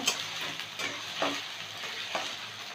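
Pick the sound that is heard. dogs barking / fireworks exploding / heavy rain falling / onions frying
onions frying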